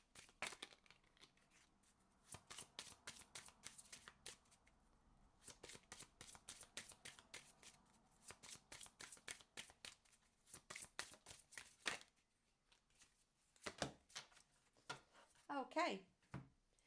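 Tarot cards being shuffled and drawn, a long run of dense papery riffs and flicks with brief pauses, close and fairly quiet, ending with a few sharper card slaps.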